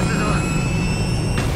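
A steady, loud jet roar fills the air as an aircraft's launch system engages in Call of Duty: Infinite Warfare, continuous and close throughout.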